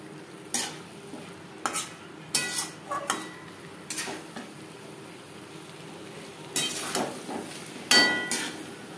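Fried pointed gourd cooks on a high-to-medium gas flame, a low sizzle broken by a series of sharp metal spoon clinks and scrapes against the pan, close up and without speech.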